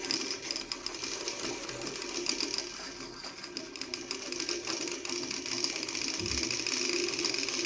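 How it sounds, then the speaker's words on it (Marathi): Sewing machine winding thread onto its bobbin, a steady fast mechanical whir close by that runs continuously and alone for several seconds without break. "आता आपण या रील मध्ये धागा भरून घेऊ चाकावरती धागा भरून घ्यायचा आहे"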